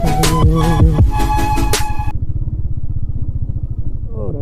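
A Royal Enfield Thunderbird motorcycle engine riding off-road, thumping with a low, even pulse close by, a brief bright tonal sound ringing over it at the start.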